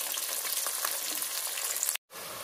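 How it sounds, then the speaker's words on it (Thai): French fries deep-fry in hot oil with a loud, steady bubbling hiss that cuts out abruptly for a moment before resuming. "น้ำมันร้อนแล้วเราก็ใส่เฟรนช์ฟรายลงไปเลยค่ะ นะคะ ทอดจนเหลืองกรอบเลยนะคะ"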